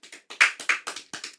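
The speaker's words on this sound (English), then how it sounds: "First of all, clap." Hosts clap at the start of a therapy podcast episode, a run of about ten sharp, close claps in an uneven rhythm, some louder than others, with no talking.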